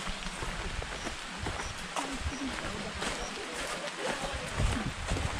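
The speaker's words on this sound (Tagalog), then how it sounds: "Ambon guys." Light drizzle falling outdoors along a long rural walking trail toward a remote village in the Philippine countryside, a steady, even hiss of fine rain throughout, with faint scattered taps and muffled voices beneath.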